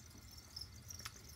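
Crickets in a chameleon cage feeder chirp faintly and steadily over low background hum, with a couple of brief, slightly clearer chirps and no voices.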